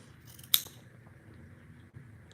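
Scissors cut crochet yarn ends with a single sharp, close snip, followed by a quiet room with faint rustling.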